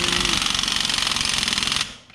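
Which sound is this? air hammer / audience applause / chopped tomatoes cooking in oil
air hammer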